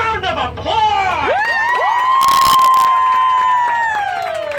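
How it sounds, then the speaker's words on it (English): An audience cheers, whoops and shouts loudly, with rising excited voices and a burst of clapping in the middle, filling the whole stretch. "I said a real loud round of applause!"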